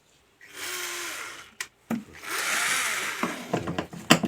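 Screws on both sides of a washing machine motor are backed out with a power screwdriver during repair, heard as several short whirring bursts separated by brief pauses and clicks, close by with no speech.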